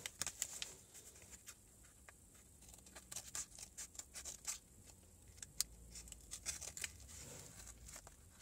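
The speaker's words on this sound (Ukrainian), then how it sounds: "Розрізаємо." A plastic package from China is cut open with soft, faint snips and crinkles, scattered irregularly over quiet room noise.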